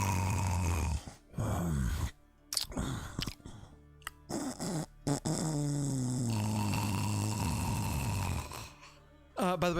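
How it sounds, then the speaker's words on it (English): A sleeping man with sleep apnea snores loudly and close by, with long, rasping, groaning snores separated by abrupt silent pauses in an irregular rhythm. "loud snores."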